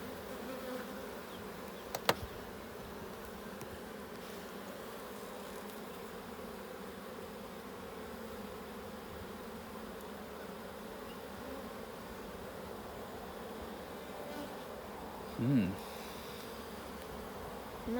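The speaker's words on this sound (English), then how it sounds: "There are masses of bees." Masses of honeybees buzzing in an open hive during an inspection, a low steady drone running throughout at moderate level, with a brief knock early on and a soft close buzz passing near the end.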